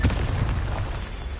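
A fire-spell explosion in the game Hogwarts Legacy: a single deep, loud boom that bursts at the onset and then rolls off into a dull, sustained rumble.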